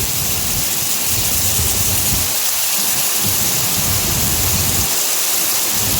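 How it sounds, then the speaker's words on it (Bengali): Heavy, constant rush of floodwater through a forest area in the Dooars, a dense roaring wash with no voices, loud and unbroken throughout. "জলের পরিস্থিতি দেখুন আপনারা কীভাবে জল বয়ে চলেছে"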